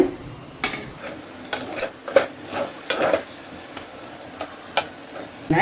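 A cooking pot of rava kichadi handled after ten minutes on the stove, with a series of sharp close metallic clacks and taps as the lid is lifted and set aside, spaced irregularly with quiet between.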